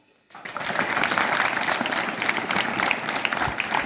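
Sustained audience applause at a lecture on the psychology of the mind, starting abruptly after a brief silence and holding steady as dense, close clapping from a crowd.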